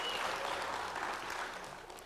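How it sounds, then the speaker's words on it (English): Graduates and guests at a GED graduation ceremony applaud, a faint, steady wash of clapping that slowly fades. "let's give ourselves a round of applause for that"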